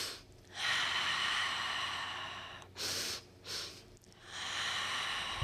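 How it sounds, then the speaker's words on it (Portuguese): Deep guided breathing, drawn in through the nose and released out through the mouth, repeating in long airy breaths with brief pauses, close and fairly loud with no talk. "Puxo pelo nariz, Me ajuda. solto pela boca."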